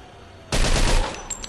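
A sudden loud burst of rapid automatic gunfire in Mafia II erupts after a brief quiet moment, then cuts off with a couple of small metallic clicks.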